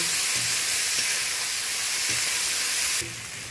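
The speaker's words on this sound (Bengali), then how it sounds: "ফোড়নের সাথে আমি নেড়ে নিচ্ছি" Onion, tomato and green chilli stirred into a fennel-seed tempering, giving a loud, steady sizzle with occasional scraping stirs, easing slightly quieter near the end.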